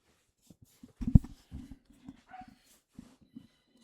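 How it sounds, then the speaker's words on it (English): Dogs barking and whimpering in the background, heard as scattered short bursts of varying loudness with one sharp louder yelp near the middle, fairly close and without talk over them. "Apologize if I hear the dogs in the back"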